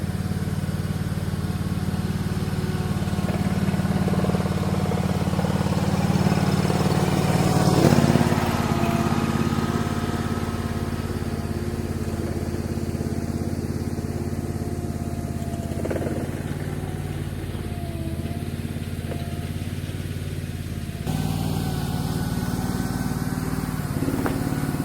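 A Typhon Stomp Chinese mini skid steer's small engine runs steadily for the whole stretch, a loud, close buzzing drone that swells briefly partway through, with no talking.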